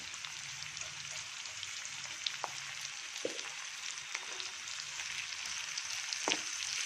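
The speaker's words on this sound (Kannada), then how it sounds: "ಕಡಿಮೆ ಉರಿಲಿ ಒಗ್ಗರಣೆಯಲ್ಲಿ ಫ್ರೈ ಮಾಡ್ಕೊಳ್ತಾ ಇದ್ದೀನಿ." Spices tempering in oil on a low flame for wheat-based bisibele bath, a steady soft sizzle throughout with a few faint clicks of a spoon or utensil, close and alone without voices.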